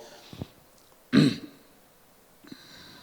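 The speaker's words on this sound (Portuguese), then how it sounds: "Surgiu até um pigarrinho aqui, ó." A single throaty clearing of the throat, near and fairly strong, with a couple of faint breathy sounds before and after.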